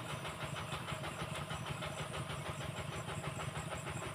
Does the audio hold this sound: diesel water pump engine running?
yes